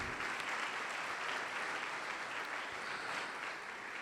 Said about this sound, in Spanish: Dele un aplauso a la gloria de Dios